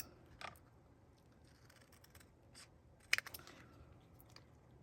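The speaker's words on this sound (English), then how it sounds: "And then we can trim this off. Where are my purple scissors?" Scissors trim the edge of a small paper craft card, giving a few faint, close snips and crisp cuts against a quiet room, with one sharper clustered snip near the end.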